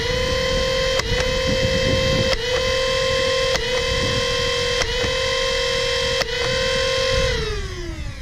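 A flywheel foam dart blaster fires five Elite darts in a steady loud whine of spinning motors. Five sharp clicks mark the shots at even intervals, and the motors then wind down at the end.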